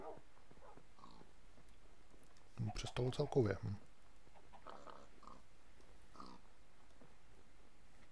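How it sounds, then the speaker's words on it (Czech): Pigs grunting in the Minecraft video game, a short burst of snorting oinks from a nearby animal standing out against quiet background ambience, with a person talking faintly before and after. "Prasata tady chrochvěj."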